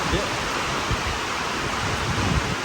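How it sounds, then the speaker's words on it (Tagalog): A dense, steady roar of heavy rain pours without pause during a power outage with approaching floodwater, loud and close, filling the whole clip like rushing water. "Ang lakas pa ng ulan."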